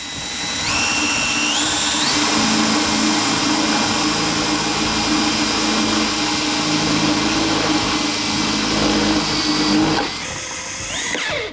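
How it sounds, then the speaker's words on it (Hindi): A Bosch GSB 18V cordless impact drill driver, set to its second speed in drilling mode, drives a self-tapping screw into metal. A loud, steady motor whine climbs in pitch under load for about ten seconds, then cuts off abruptly. "तो यहाँ पे आपने देखा कितनी आसानी से ये मेटल में स्क्रू को टैप करता है।"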